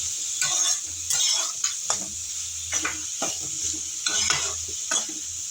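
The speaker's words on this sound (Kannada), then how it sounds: "ಈರುಳ್ಳಿ ಸ್ವಲ್ಪ ಫ್ರೈ ಆಗಬೇಕು, ಅಲ್ಲಿ ತನಕ ಚೆನ್ನಾಗಿ ಫ್ರೈ ಮಾಡ್ಕೊತೀನಿ." Onions frying over high flame in a pan for an egg burger, a steady close sizzle with repeated stirring scrapes and light clinks of a utensil against the pan, no voices.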